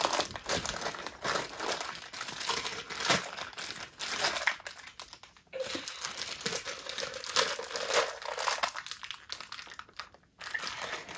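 Crinkly plastic packaging of a Playmobil City Life classroom toy set is torn and crumpled open in steady bursts of rustling and crackling. The sound stays close and fairly loud and briefly pauses a few times.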